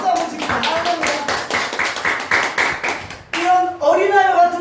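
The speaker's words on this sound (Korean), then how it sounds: "지금 박수 한번 칩시다." A church congregation at a Sunday service claps together in a dense burst of applause lasting a few seconds, close and loud, then a voice speaks.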